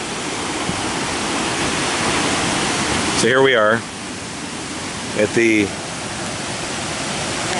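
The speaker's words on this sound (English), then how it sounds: "the waterfall in Chiang Mai" Mae Rim waterfall in Chiang Mai, Thailand, roars as a steady, loud wash of falling water, while someone talks briefly over it.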